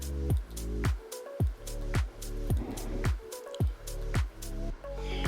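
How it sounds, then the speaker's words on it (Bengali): Fried vegetables for Bengali shukto being stirred into warm water in a pot, giving a repeated series of wet squishes and sloshes at a steady rhythm, close up and fairly loud with no talk. "জলটা একটু গরম হয়ে গেলে ভেজে রাখা সবজিগুলো আমি এতে মিশিয়ে দিচ্ছি।"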